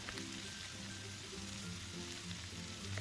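Mixed vegetables sautéing in a pan with tofu dishes, a soft steady sizzle and crackle with faint stirring, quiet and close, no talking.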